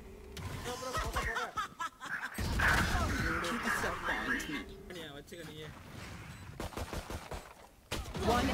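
Rapid gunfire bursts and single shots ring out in the tactical shooter game Valorant, mixed with game effects and voices talking over the action.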